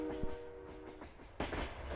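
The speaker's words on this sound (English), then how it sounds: "excuse the train, I'll wait a moment." Long train passing in Farming Simulator 22, a rumbling rail roll with a tonal horn-like drone and a burst of clattering wagons near the end, fairly quiet, no voices.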